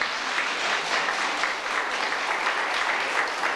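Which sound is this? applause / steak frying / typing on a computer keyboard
applause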